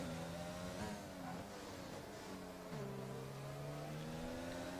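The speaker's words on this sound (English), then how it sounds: "both these guys essentially just using their engines for their power" Formula 1 cars from Red Bull and Mercedes race past, their engines making a continuous high-pitched, gliding whine that rises and falls as they shift. The sound is steady and fairly faint, with no talk over it.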